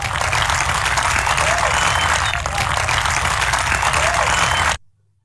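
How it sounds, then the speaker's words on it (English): An audience applauds judges and sponsors at the DEWA Business Cup Challenge 2020 finale: loud, dense, sustained clapping fills the hall, then cuts off abruptly near the end. "Can we all please applaud our judges and sponsors in appreciation?"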